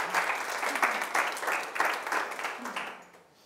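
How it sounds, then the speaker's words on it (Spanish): An audience at a conference applauds in a brisk, moderately distant burst of many hands, holding steady and then fading away toward the end. "Un aplauso."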